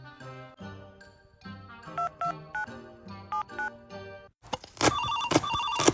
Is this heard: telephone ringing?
yes